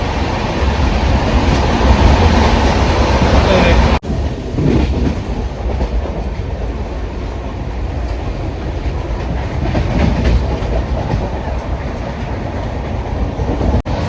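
Inside a moving train, a loud steady rumble of wheels on rails with faint rhythmic clacking fills the whole stretch, broken by one abrupt cut partway through.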